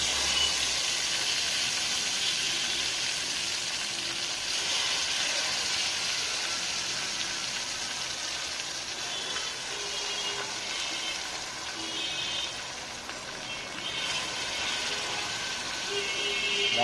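Onions fry in a pan and are stirred lightly, giving a steady, bright hissing sizzle that stays loud and even throughout, with faint occasional scrapes.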